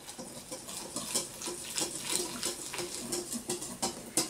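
Sparkling water poured into flour and the batter stirred by hand for eggless pancakes, heard as close, faint, irregular wet sloshing and scraping bursts with no talking.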